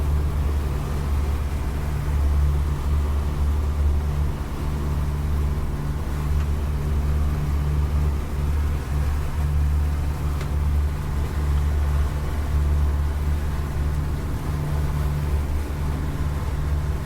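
A 2019 Jeanneau NC-695 motorboat cruises under steady engine power, a continuous low droning hum with broadband wash of water and wind, constant and fairly loud throughout with no talk.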